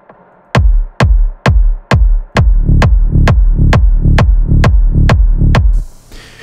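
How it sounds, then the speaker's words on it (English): Techno kick drum hits loud and alone in a steady four-on-the-floor pulse, each thump trailing into a reverb rumble that fills the gaps over the bass, about a dozen hits before a soft fade. "To have the reverb of the kick just sitting on top of it in this case"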